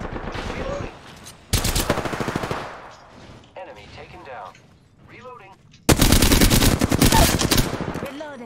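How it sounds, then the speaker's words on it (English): Enemy gunfire in a video game rattles out in two loud, dense automatic bursts separated by quieter stretches of game sounds and effects. "The enemies are shooting at me."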